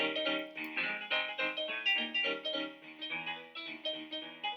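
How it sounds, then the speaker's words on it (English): Scott Joplin's Maple Leaf Rag, a ragtime piece, plays as a recording with bright, rhythmic piano-like chords in a steady syncopated pulse, moderately quiet and without voices. "number 1, The Maple Leaf Rag by Scott Joplin."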